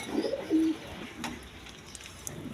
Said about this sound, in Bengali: দর্শকবৃন্দ এইখানে এক পেয়ার মসলদম কবুতর আছে দেখেন